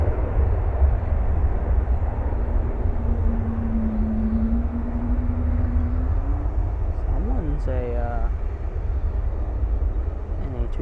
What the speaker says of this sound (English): This 7-3 headed off to Bozeman on board a 737-800